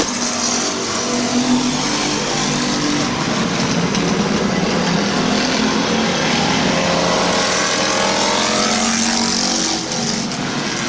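Race cars roaring around the oval at Midvale Speedway on the final lap, a dense, continuous engine drone that swells and fades as cars pass, loud and close, with no talk.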